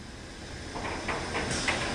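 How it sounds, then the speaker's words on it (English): Pressurised air hisses steadily from the door seal of a source inspection machine, a continuous broadband rush with faint clicks and a slight rise in intensity toward the end. "We need to wait for the door seal to release air as well."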